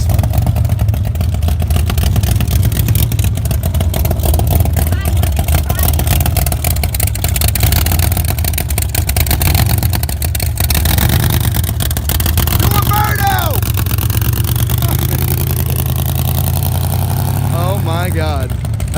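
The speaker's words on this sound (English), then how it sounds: "Oh, that's the supercharged one." A supercharged car engine with its air cleaner sticking out of the hood rumbles loudly and revs at a car show, close by, with people talking over it at points.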